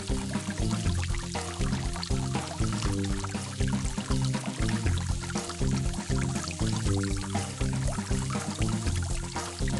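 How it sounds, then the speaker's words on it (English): Water pours and flows through a pipe in a kids' science learning game, a steady, continuous gushing with no pauses, set against a dense, loud game backdrop. "The water is going through the pipe."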